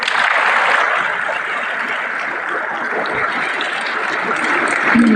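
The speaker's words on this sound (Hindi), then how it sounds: "सबसे कम ताली हो रही है" Applause from students in a school hall, a steady dense clapping wash that holds evenly throughout with no pauses.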